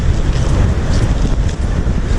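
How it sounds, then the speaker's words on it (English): Breakers crashing onto the shore at Sandsend on the Yorkshire coast after rough winter storms, a dense continuous roar of surf mixed with heavy wind buffeting, loud and close, with no voices. "look at those breakers"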